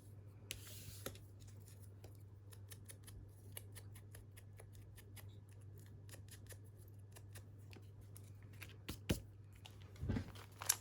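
Quiet, rapid snipping of scissors cutting the white edge off a paper image, a steady run of crisp little clicks close up over a low background hum, with a few louder snips near the end.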